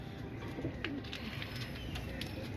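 Jumbo-sized pigeons coo softly in a low, murmuring flock, with faint chirps and a busy background hum.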